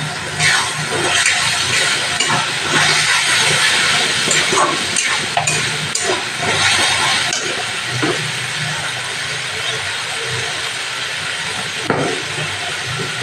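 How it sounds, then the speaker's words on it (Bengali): Hot water poured into a hot pan while paneer is made hisses loudly in a steady, broad sizzle that lasts throughout, with faint clinks and scrapes underneath. "গরম জল দিয়ে দিলাম"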